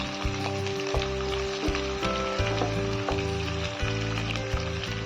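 Chopped onions and a few whole garlic cloves sizzle steadily in hot oil for mutton curry, with repeated scraping stirs of a metal spatula giving a rhythmic clatter over the constant frying hiss.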